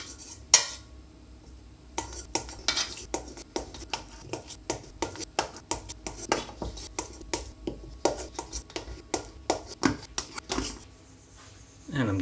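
A knife cutting butter into small cubes in a big bowl, with a run of close, evenly spaced taps and clicks against the bowl.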